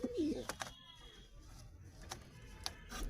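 Pet pigeons, a male and a female pair, coo softly at close range in a few short bursts, with quiet sharp clicks and faint background noise between calls.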